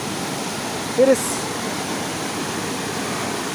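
A waterfall, heard from its topmost part, rushes as a steady broadband roar throughout, while someone briefly speaks over it.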